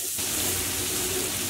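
Sliced onions frying in a few tablespoons of oil in a pot on medium heat make a continuous close crackling hiss, dense and steady, briefly quieter at the very start.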